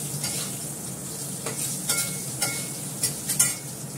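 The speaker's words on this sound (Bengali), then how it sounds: "আলুটাকে ফ্রাই করবো।" Potatoes frying in a pan, a continuous sizzling hiss broken by several scraping stirs of a spatula, close and clear with no voices.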